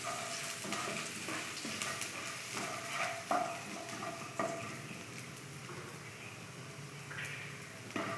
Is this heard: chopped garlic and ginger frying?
yes